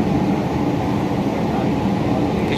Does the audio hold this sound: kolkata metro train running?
yes